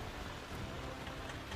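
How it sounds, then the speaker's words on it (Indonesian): Rain falls on a rocky mountain track on the route to the village of Renah Kemumu, a steady broadband hiss of drops with no voices, fairly soft and continuous throughout. "Tiba-tiba, hujan pun turun di wilayah ini."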